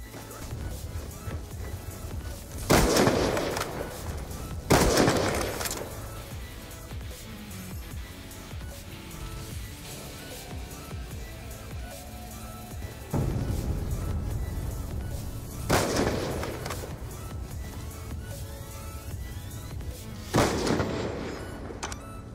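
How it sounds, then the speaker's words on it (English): Gunfire in a video game: several loud, sharp shots spaced a few seconds apart over a steady background of game ambience, with a hit marker sound among them. "there's gonna be a shot and a hit marker at the end"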